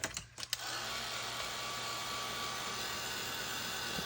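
A handheld heat tool blows hot air to dry white splatter on foil card stock, starting with a few clicks and a sputter before settling into a steady, loud whirring hum that holds without a break.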